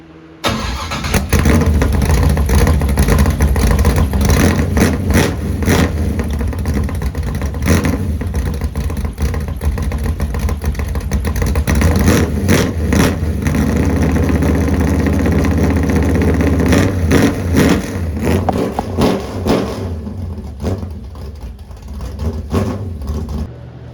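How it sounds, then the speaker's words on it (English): Built race car engine breathing through a race exhaust starts up and revs repeatedly, loud and close, with a rough lumpy idle between sharp blips, tapering toward the end. "I've got my race exhaust on"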